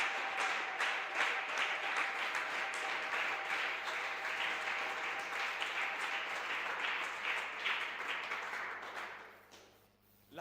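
A church congregation at a fasting and prayer service claps in sustained, rhythmic applause that carries on steadily, then fades and drops away at the end.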